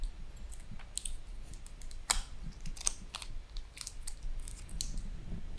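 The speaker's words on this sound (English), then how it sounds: "So I have to remove the plastic protection on the heatsink." Protective plastic film peeled off the heatsink of a homemade 12,000-lumen LED module, giving close, quiet, irregular crackles and sharp ticking clicks over a faint low rumble, with no voices.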